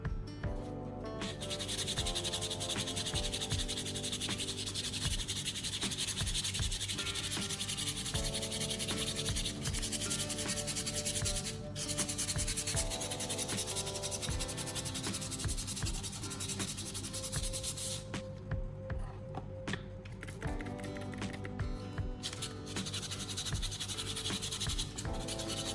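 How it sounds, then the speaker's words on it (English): Continuous scratchy sanding strokes rasp back and forth across rusty metal sprayed with water, with music-like tones underneath and brief pauses between passes. "Before we start sanding, I'll spray some water on it."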